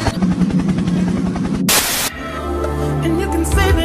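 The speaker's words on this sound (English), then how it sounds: "Helicopter, helicopter." A helicopter's rotor chops rapidly and loudly, cut off by a brief burst of harsh static, followed by a lower mechanical rumble.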